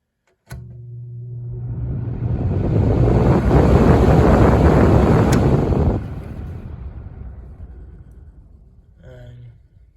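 A vintage Lakewood C-122X box fan is switched on to high speed. Its airflow whoosh builds over a few seconds to a loud, steady rush, then cuts off and fades as the blades spin down, with a small click near the end.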